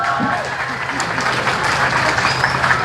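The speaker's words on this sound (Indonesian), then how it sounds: "Tepuk tangan buat perempuan." An audience at an Indonesian stand-up comedy show bursts into applause, a brief dense wash of clapping with some crowd noise mixed in.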